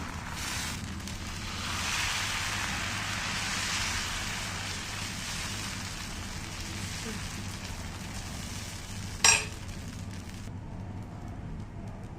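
Dosa batter cooks on a hot griddle, giving a steady close hiss and sizzle like rain on a surface, fairly even in loudness, with one brief sharp clink near the end.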